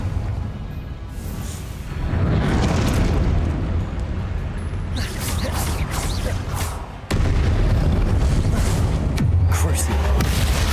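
Confringo fire spell blasts from the video game Hogwarts Legacy, a string of booming explosions and bursts stacked over a continuous noisy game soundtrack, loud and close, with a sharp drop and restart partway through.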